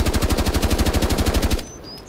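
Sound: automatic rifle gunfire, video game Rainbow Six Siege

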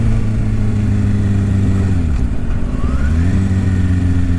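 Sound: Kawasaki Ninja 636 motorcycle accelerating at full power

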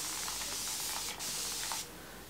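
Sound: continuous misting spray bottle spraying

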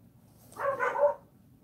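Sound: dogs barking downstairs

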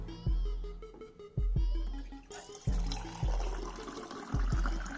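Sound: water being poured in to mix with glow stick liquid

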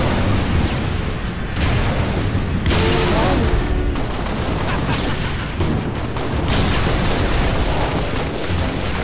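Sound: grenade explosion in video game Halo Reach

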